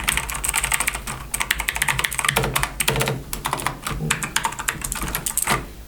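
Rapid, close typing on an Azio MGK L80 magnetic-switch keyboard, with a dense run of crisp key clacks and brief pauses between bursts, loud and alone.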